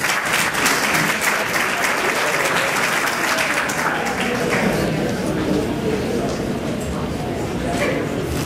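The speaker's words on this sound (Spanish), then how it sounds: "Un fuerte aplauso para ella." A concert audience at a live singing performance breaks into sustained, loud applause, with dense clapping holding steady throughout and some cheering voices mixed in.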